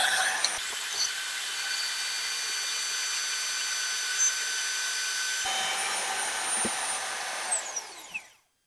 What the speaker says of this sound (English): So I got that hole drilled